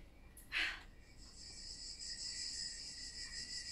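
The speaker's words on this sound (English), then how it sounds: "The cicadas are as if in a singing competition." Cicadas singing in blazing sun in Varna, Bulgaria: a high, continuous metallic buzzing drone, moderately faint and steady, after a brief breathy rustle at the start.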